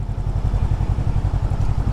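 A Hunter Scrambler SK500 500cc motorcycle maneuvers slowly around a parking lot, its engine giving a close, steady low throbbing pulse at idle-like revs.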